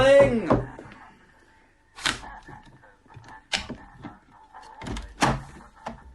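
A shop door is unlocked and opened for customers: three sharp clacks spaced a second or two apart, with a voice calling out at the start and faint background hum.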